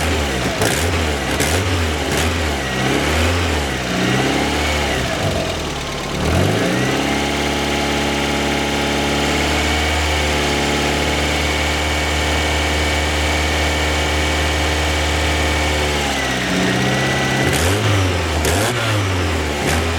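A Mazda Miata engine, freshly fitted with a new water pump and timing kit, revs up and down loudly at close range, settles into a steady idle, then revs again near the end.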